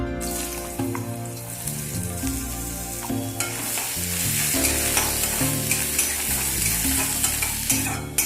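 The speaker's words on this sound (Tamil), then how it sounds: "அடுத்தது நூல்கோல் வறுக்கும்." Kohlrabi frying in a pan, a continuous loud sizzle running under background music with occasional stirring knocks and a swell partway through.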